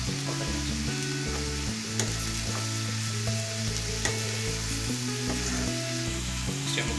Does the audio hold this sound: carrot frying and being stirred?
yes